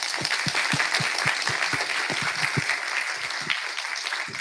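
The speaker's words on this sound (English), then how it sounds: "A round of applause for our panelists" An audience at an institute's 65th anniversary event applauds its panelists: a dense round of clapping with distinct, rhythmic individual claps standing out close by, sustained evenly before tapering slightly at the end.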